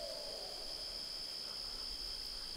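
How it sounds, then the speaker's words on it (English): An owl hoots outdoors at night, soft and somewhat distant, against a steady high insect or cricket drone that runs the whole time; no one speaks. "You can hear an owl there."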